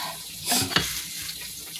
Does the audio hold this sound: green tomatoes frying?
yes